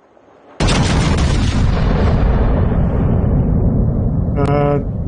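Tank guns firing high-explosive shells in a multiplayer battle game, a sudden heavy boom that rolls into a long loud rumbling roar, fading slowly, with a short clipped beep near the end.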